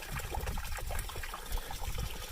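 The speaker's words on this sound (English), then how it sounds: "Actual running water." Running water from a stream beside a hiking trail in New Mexico, a steady close trickling and gurgling wash that continues evenly throughout with no talking.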